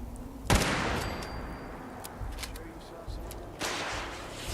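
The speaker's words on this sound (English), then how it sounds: "that's a missile" A sharp whooshing launch blast from a missile in Fallout 4, followed by a sustained rumbling roar with scattered cracks and a second surge toward the end.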